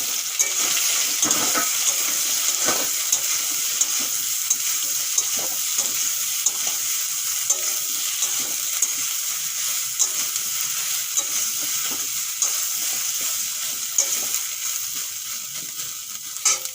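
Soya chunks and potatoes fry together in a pan of oil, giving a dense, continuous sizzle at close range with scattered stirring knocks and scrapes, with no talk.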